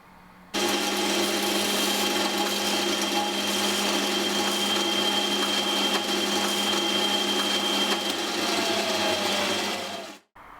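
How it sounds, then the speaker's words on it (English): A power drill with a 1/8 inch bit bores into a wooden salt cellar piece, a steady whining drone starting abruptly and holding for about ten seconds before cutting off. "so I'm using an 1/8 inch drill."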